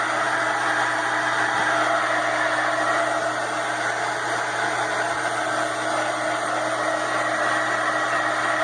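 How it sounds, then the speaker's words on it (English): A heat tool blowing steadily to dry paint on a background, a constant loud whooshing hum with no breaks and no talk. "now all I'm doing is drying it with my heat tool"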